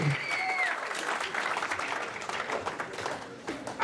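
Steady applause from a large crowd at a judged fight bout, dense clapping filling the whole stretch with a few brief whistles at the start.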